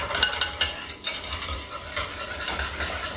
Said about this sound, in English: Keep on whisking and heating.